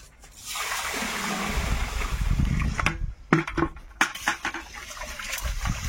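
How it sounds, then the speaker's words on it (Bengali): Water splashes and sloshes as cooking pots are rinsed with pond water outdoors, a run of splashing giving way to several sharp clanks and knocks of metal vessels close by. "পুকুরের জল দিয়ে ধুয়ে নেওয়া হচ্ছে"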